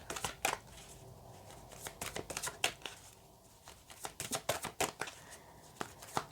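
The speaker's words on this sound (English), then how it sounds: "I've had trouble shuffling these cards in every reading" A large deck of tarot cards being shuffled, with repeated crisp riffling bursts and soft slaps in irregular clusters, close and clear, with no talk.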